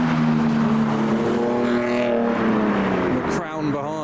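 A JDM 110-series Toyota Mark II drives out of a car show, its engine a steady close rumble that holds, then eases off as it pulls past, with people talking over it.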